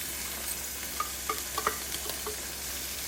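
Minced meat sizzles with browned onions in a frying pan, a soft continuous crackle broken by several light scrapes and taps of a stirring spoon.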